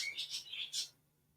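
Pet birds chirp faintly indoors, a quick run of four or five high, thin tweets in about a second, then quiet.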